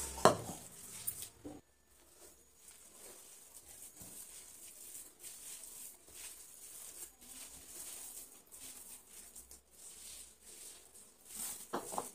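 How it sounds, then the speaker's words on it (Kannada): Rice flour dough with grated cucumber and peanut powder is mixed by hand in a bowl, giving soft, irregular squelching and light scraping with a few clinks against the bowl, close and fairly quiet. "ಈಗ ಸ್ವಲ್ಪನೇ ಅಕ್ಕಿ ಹಿಟ್ಟನ್ನ ಹಾಕಿ ಕಲಿಸ್ಕೋಬೇಕು."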